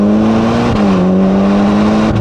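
Ferrari Portofino M with a Novitec exhaust, its engine holding a steady, loud, close drone that rises slightly in pitch as the revs climb, with a brief shift in tone partway through.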